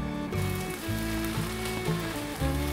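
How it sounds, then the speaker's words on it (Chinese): Batter pan-frying over low heat gives a steady close sizzle, with faint background music and no talk. "开小火，让它慢慢煎。"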